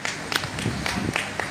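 A small audience at a poetry collection launch and award ceremony gives a brief, scattered round of hand claps, a handful of distinct slaps close together in quick succession.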